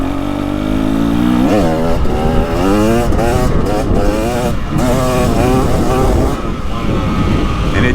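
A 2023 KTM 300XC dirt bike's two-stroke engine pulls hard under partial throttle, rising and falling in pitch through repeated surges, loud and close with wind rush on a fall ride in Ohio.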